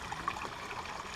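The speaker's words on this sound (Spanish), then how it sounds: "recorre agua aquí, varios hilos de agua" Thin trickles of water run through a jungle-like zoo enclosure in Chiapas at the start of the rainy season, a soft, steady low wash with faint gurgles, no talk.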